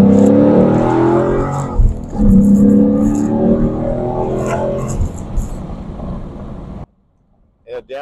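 Ford Mustang GT V8 with active exhaust in track mode revving hard, rising and falling in loud throaty bursts close by, then cutting off to near silence with a short chirp at the end.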